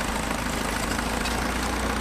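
A 1939 Case D tractor pulling an International Harvester No. 15 pickup baler runs with a steady, loud, close engine drone and a fast, even throb, with no speech.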